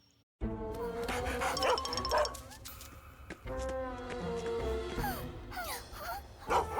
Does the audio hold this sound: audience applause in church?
no